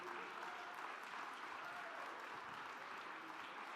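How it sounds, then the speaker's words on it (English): An audience at a panel session in Minnesota gives a steady round of applause to welcome a panelist, even and continuous throughout at moderate loudness. "Please, a big round of applause, Mr. Mark Ritchie, everybody"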